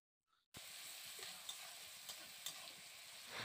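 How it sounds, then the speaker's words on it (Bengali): Chopped tomato and onion fry in oil in a pan, heard as a steady sizzle that begins abruptly after a brief silence, with a few sharp pops and spatula scrapes while stirring. "এবার টমেটো আর পেঁয়াজটাকে ভালো করে ভেজে নিচ্ছি।"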